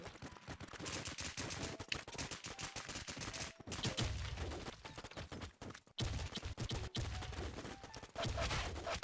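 Rapid bursts of automatic gunfire from a shooting video game crackle in dense strings with brief pauses between volleys, close and sharp throughout.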